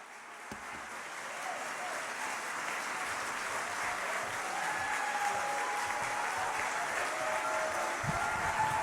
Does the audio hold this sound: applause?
yes